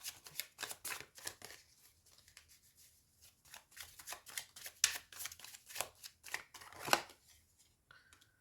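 Tarot cards are shuffled by hand in a steady run of close riffling and slapping strokes, with a few sharper flicks as cards are pulled from the deck.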